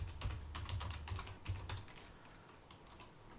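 Someone types on a computer keyboard, a quick run of faint, close key clicks in bursts that tail off into quiet room tone, no talk.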